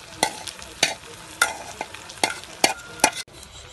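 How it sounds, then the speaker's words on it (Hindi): Schezwan fried rice with soy sauce is stir-fried in a pan, with a spatula scraping and clanking in a regular rhythm of about seven sharp strokes over a continuous close sizzle; no talking. "सोया सॉस ऐड कर रहे हैं अभी, सारी चीजों को हमको मिक्स कर देना है।"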